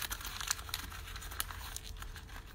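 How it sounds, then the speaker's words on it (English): A sheet of paper is crumpled tightly into a ball, giving a continuous close-up crinkling and crackling with sharp little snaps throughout, no voices. "I'm gonna crumple it into a ball."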